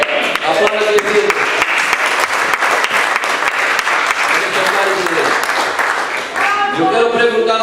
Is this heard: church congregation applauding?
yes